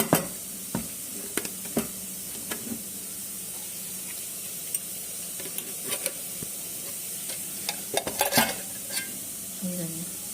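Small onions and cumin seeds sizzling in oil, a continuous frying hiss broken by scattered sharp crackles and pops, with stirring scrapes toward the end.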